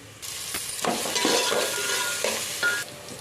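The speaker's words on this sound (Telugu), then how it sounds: "ఎల్లిపాయలు రెడ్గా అయ్యి ఇప్పుడు ఉల్లిగడ్డ కూడా ఫ్రై చేసుకుందాం." Onions frying in hot oil after garlic, stirred in a pan, a close steady sizzle with scraping stir strokes and occasional utensil clinks against the pan.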